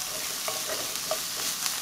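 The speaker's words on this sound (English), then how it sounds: "we're just gonna cook our onions until they're softened for about 3 minutes" Onions sauté in a pan as they soften for a ground beef empanada filling, a brief, soft sizzle with light stirring taps underneath.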